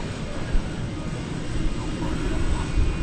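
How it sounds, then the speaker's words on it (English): An Airbus A321 airliner at DFW Airport rumbles with a steady jet engine roar at a distance, holding a broad continuous drone with slight swells. "This is flight 508. It's an Airbus A321. It's going to Fresno, California."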